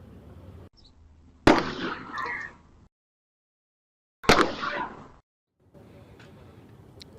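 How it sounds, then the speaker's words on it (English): Two sharp, loud gunshots ring out a few seconds apart, each followed by a brief rumbling echo, over faint background noise, as captured by a surveillance camera. "surveillance video where you can hear the moments a gun is fired"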